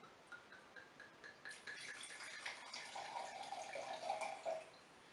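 Monastrell red wine from a Mallorca winery is poured slowly into a glass, giving a faint, thin trickling and splashing. It builds gradually over a few seconds against quiet room tone, with no talking.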